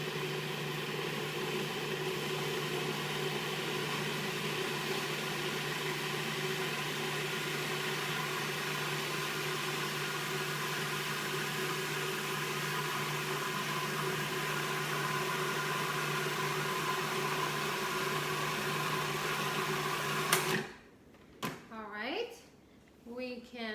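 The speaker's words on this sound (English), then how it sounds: "let's start by just turning the food processor on, and I will be adding olive oil as it goes" Food processor running steadily while blending basil pesto with almonds and olive oil, a loud constant motor whir for about twenty seconds that cuts off abruptly, followed by a voice talking.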